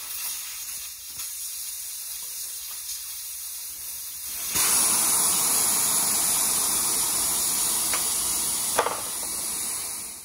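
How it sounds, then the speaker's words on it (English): A tire on a 1928 Ford Model A wheel hisses steadily after its valve core is removed. The broad, continuous rush of escaping air is close and strong, grows louder about halfway through, then carries on without voices. "To get the tire off, you need to take all the air out of it. So I'll take out the valve core."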